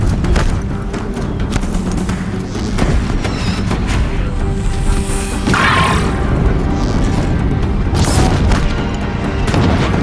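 Deathbringer machines in Horizon Zero Dawn firing heavy weapons, with booming explosions and rapid bursts of shots piling up in a loud, relentless battle din, no talk over it.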